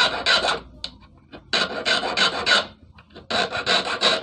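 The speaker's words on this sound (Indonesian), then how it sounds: "kita langsung lanjut aja menggunakan kikir segitiga ya" A triangular file rasps against a piston to shape a fishing hook, with loud bursts of quick back-and-forth strokes in three clusters separated by short pauses.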